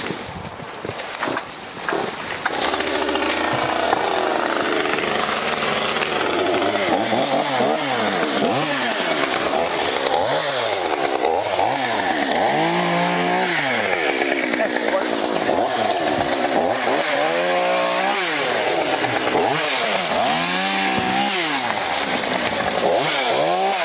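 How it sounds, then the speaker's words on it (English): A chainsaw runs continuously in the woods, engine revving up and down in repeated rising and falling surges as it cuts wood to clear a path, loud and close, with a brief quieter start before it settles into steady high-pitched roaring. "Chainsaw warmed up."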